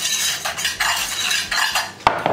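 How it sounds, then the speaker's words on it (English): A whisk beating dry sugar and flour in a medium saucepan, rhythmic scratchy swishes against the metal with a couple of sharp clinks at the end, close and alone. "We're going to whisk this up and get it well combined."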